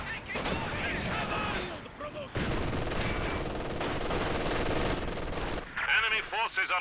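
Machine gun fire rattles in dense, rapid, continuous bursts in a World War II strategy game, mixed with other distant shots, while a commentator talks over it near the end.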